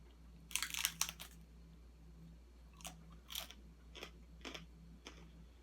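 Quiet, close bites into a crunchy Burger King taco, each crisp crack of the shell followed by soft chewing, repeated several times in short bursts.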